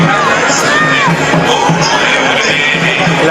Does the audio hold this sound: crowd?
yes